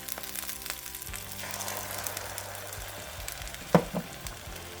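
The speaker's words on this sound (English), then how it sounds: "That way I can fry the egg right there." An egg frying on a hot pan pushed beside rice gives a soft, steady sizzle close by, with a couple of sharp utensil taps near the end and no talk.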